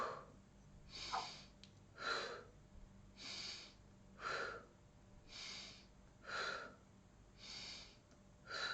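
Slow, deep breaths during a relaxation exercise, soft and close, with about eight even, rhythmic breathy swells separated by quiet gaps.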